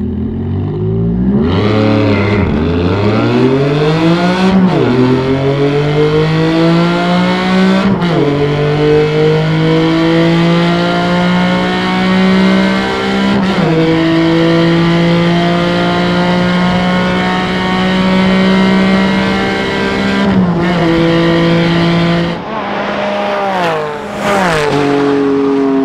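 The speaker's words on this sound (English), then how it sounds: "let's do the acceleration test so that we can see where it stacks up on the fast list" A 2020 Porsche 718 Cayman GT4 at full-throttle acceleration, its engine climbing steeply through several gears with brief dips at each shift, loud and continuous throughout with no talk.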